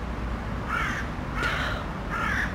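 Crows caw outdoors in three separate harsh, raspy calls spaced about a second apart, moderately close over a steady background hiss.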